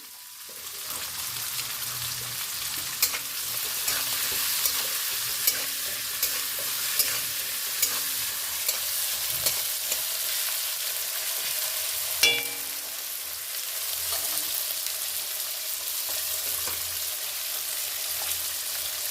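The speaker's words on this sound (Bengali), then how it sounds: "এটা কাতলা মাছের ভাজা হচ্ছে দই মাছের জন্য" Katla fish pieces fry in hot oil in a pan, a dense continuous sizzle with occasional sharp pops and scraping stirs, close and steady throughout with no talk.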